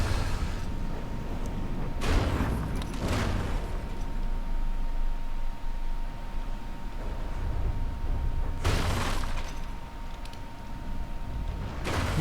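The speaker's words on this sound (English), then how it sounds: "And some of our main guns come in, just done a nice bit of damage on the initial shot." Main guns firing on a warship in the game From The Depths, a few heavy booming blasts in quick pairs and then another volley later, loud over a constant low rumble of engine and water noise.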